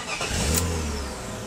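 A BMW E36 with a manual gearbox, sitting in neutral, cranks briefly and catches, settling into a steady mid-pitched running idle close by, with no talking.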